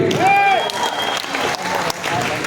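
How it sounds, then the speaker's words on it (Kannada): An audience claps at the song release event for the Kannada film Ayogya 2. The loud, dense applause runs through the whole moment, with an amplified voice speaking over the crowd. "ಚೇತು ಒಂದು ಏನೋ ಚಪ್ಪಾಳೆ ಇರಲಿ ಜೋರಾಗಿ"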